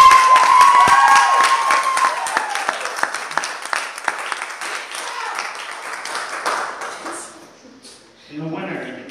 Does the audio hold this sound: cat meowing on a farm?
no